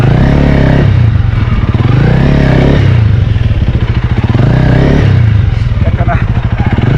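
Honda CRF 300L dirt bike engine revving hard in bursts while the rear wheel fights for grip on a tree root on a hard enduro trail, loud and close with clattering over the top.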